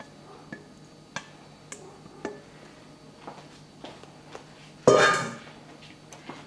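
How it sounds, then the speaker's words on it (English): Melted oil being scraped from a pot into a lye solution for homemade clove, cinnamon and lemongrass soap: scattered light clinks and taps of a spatula, then a brief louder pour-like rush near the end, with no speech. "You're gonna scrape all of your oil into it."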